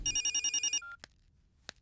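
A telephone rings in a rapid trilling burst of bell pulses lasting under a second, clear and close, followed by a couple of short clicks in an otherwise quiet room.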